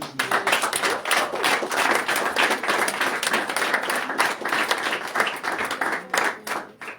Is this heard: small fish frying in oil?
no